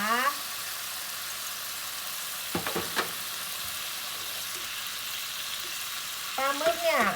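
Squid stir-fried with holy basil and seasonings in a pan gives a steady sizzle throughout, with a few clanks of a spatula against the pan and a voice speaking at the start and end.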